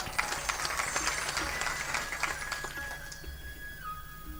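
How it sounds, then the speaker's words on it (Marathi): Faint, distant applause from a crowd of listeners at a Ram Katha religious discourse, a patter of claps that thins out and fades after a few seconds. "तुम्ही तुमच्यासाठी एकदा टाळी वाजवून घ्या"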